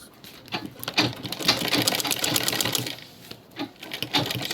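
A sewing machine stitches 1 inch bias binding along the top of a travel bag, giving a rapid, close, mechanical rattle in quick bursts with short pauses between runs.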